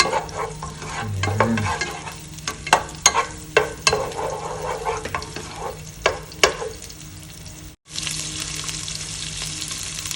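Minced garlic sautéing in a small amount of hot oil, with a steady sizzle and frequent stirring scrapes and clinks. A brief word is spoken.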